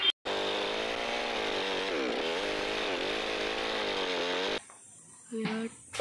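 A chainsaw cuts through a dead coconut tree, a steady high droning engine held for several seconds before it suddenly cuts off, leaving a brief quieter tail with a faint tone.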